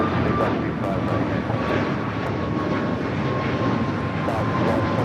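An Air Canada Boeing 787-8 Dreamliner touches down on the south side at LAX, its engines giving a steady, loud broadband roar with a faint sustained tone running through the whole stretch.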